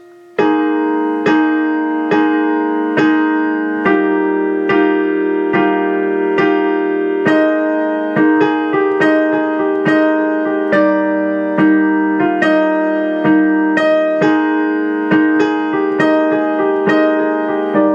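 Sustained piano chords from a song ring out one after another at a slow, steady pace, full and resonant, with no talking.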